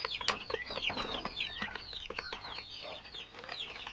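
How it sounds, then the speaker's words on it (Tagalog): A flock of three-month-old turkey chicks in a backyard farm, fully feathered, giving a dense chorus of high chirps, peeps and soft clucks, close and continuous. "At ito naman po yung ating 3 months old na sisiw na pabo."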